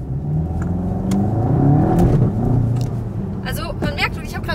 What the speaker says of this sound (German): Ich gebe jetzt noch mal kurz ein bisschen schneller Gas.